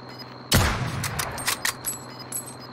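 Kar98k bolt-action rifle in Call of Duty Warzone: one loud, close shot with a booming tail, followed by softer, scattered cracks and clicks in the game mix.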